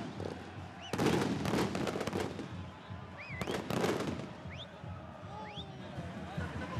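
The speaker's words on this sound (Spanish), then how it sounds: "y ahora sí, los fuegos artificiales" Fireworks bursting at a football stadium welcome for an Argentine Primera B Nacional derby in Paraná, scattered bangs and crackles with whistling rockets over a distant crowd murmur.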